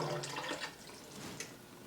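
Chicken broth poured into a pot of roasted red pepper soup, a faint, brief liquid splash and trickle over quiet kitchen background noise.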